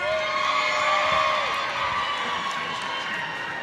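A crowd cheers at a roller derby bout, a steady wash of voices and whoops that fills the space without pause.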